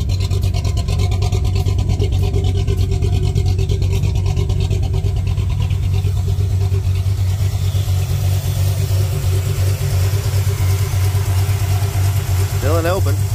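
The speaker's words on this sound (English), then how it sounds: "See if she stays cool idling here." A slammed and cammed 1978 Ford F100 truck engine idles, waiting for the thermostat to open. The lumpy, loud idle runs steadily throughout, with people talking over it.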